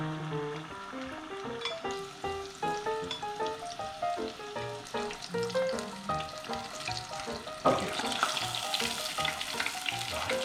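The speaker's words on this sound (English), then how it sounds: "Now fry them until golden brown." Breaded fatty shrimp deep-frying in oil heated to 180 degrees, a dense, continuous bubbling sizzle that grows louder and brighter toward the end, with no voices.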